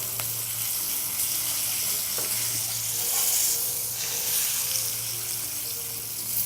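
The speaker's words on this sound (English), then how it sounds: "I got that good sizzle to the pan" Steady hissing sizzle of fish frying in a hot pan, continuous crackle with a faint low hum underneath, close and moderately loud, no talking.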